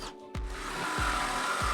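A power drill with a 2-inch Forstner bit bores into a live edge wood slab, giving a close, steady grinding whir with a few short surges as the bit bites.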